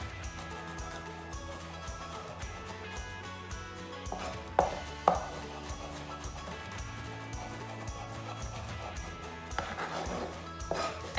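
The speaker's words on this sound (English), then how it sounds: "crush the garlic with the blade of the knife, peel off the skin, and finely chop that as well" A knife chops garlic on a cutting board in a steady series of close, light taps, with a few sharper knocks partway through.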